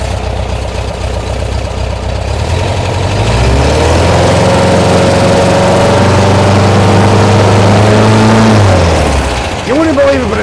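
A 1972 VW bus engine with a dieseling issue idles loudly and steadily, its low rumble rising in pitch and holding for several seconds before dropping back to a rough idle near the end.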